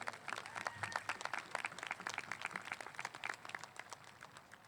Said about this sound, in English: can we give them a round of applause and recognize them?